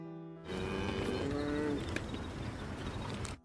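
Cattle mooing, a long, drawn-out low call that starts after a short pause and carries on with rising and falling tone amid other farm livestock noise, moderately distant.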